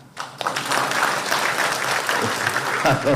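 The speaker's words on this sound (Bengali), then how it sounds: "নিজস্ব পাইলেই খালি তালি দেন" A crowd at a police event with the home minister breaks into brisk, sustained clapping that swells quickly after a short pause and holds steady, loud and close, with a voice speaking over it near the end.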